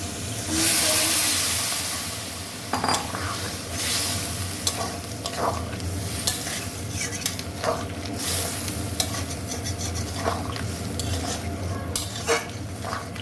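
Crab being stirred with spices in a hot frying pan (kakra kosha), giving steady sizzling and frying hiss with repeated scraping and clinking of a utensil against the pan, fairly close and continuous, with no talking.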